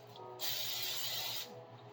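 A single steady hiss of butter-flavored cooking spray from a can, lasting about a second, close by, with a faint low hum underneath.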